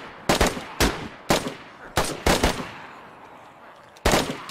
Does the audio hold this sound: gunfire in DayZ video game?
yes